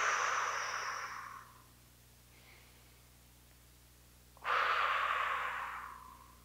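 Two long, loud breaths during a resistance band workout: a steady airy exhale fades out, then after a quiet pause a second strong breath rises sharply and trails off.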